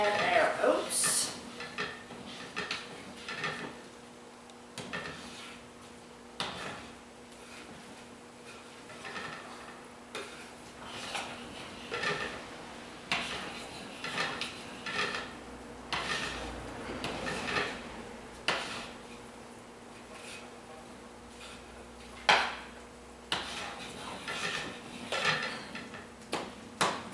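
Soap mixture stirred in a pot with oats added, giving repeated scraping and clinking of a utensil against the pot in an irregular rhythm, close and moderately soft, with a steady low hum in the background.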